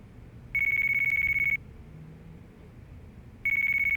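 A phone rings inside the Yakuza 4 video game: two bright, steady electronic ring bursts about a second long, separated by a pause, over a low game background.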